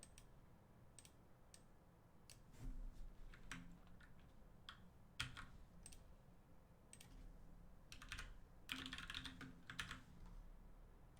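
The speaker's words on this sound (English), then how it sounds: "Okay, so I type in my channel." Computer keyboard typing in a quiet room, scattered bursts of light key clicks with short pauses and a few denser flurries, close and faint over low background hum.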